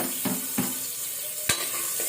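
Chopped onions sizzle in a little hot oil for a tempering, a soft steady hiss broken by a few quick stirring scrapes and one sharp clink of a utensil, heard close with no talking.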